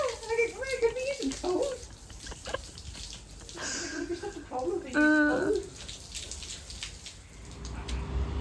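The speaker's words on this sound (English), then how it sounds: "All over being washed with warm water." Warm water from a hose or tap splashing steadily over a horse being washed down at an eventing championship, with a voice talking over the running water.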